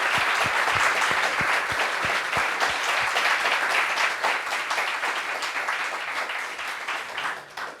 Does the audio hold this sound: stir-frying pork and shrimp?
no